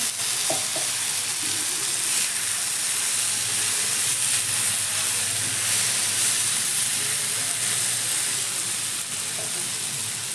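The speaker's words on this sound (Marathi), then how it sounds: "थोडं तेल टाकून घेऊया तेलात छान भाजून घ्यायचे" Tomato sizzles in hot oil for a green chili thecha, a steady close frying hiss that carries on without pause for the whole stretch, with a couple of faint clicks from the pan.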